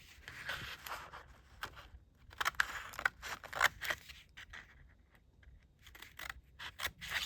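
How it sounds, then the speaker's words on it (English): Scissors snip through stamped paper for a junk journal in a series of short, crisp cuts at an uneven pace, close and fairly quiet, with brief pauses between bursts. "I stamped it so I can cut it out."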